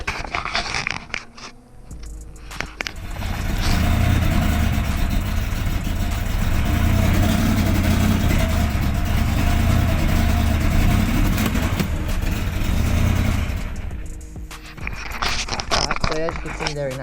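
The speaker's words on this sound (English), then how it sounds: "you can really well hear the car's not running on all 8 cylinders" A V8 car engine misfiring and not running on all cylinders, loud and close, with a rough uneven idle and surging revs for most of the stretch, plus voices talking at the start and end.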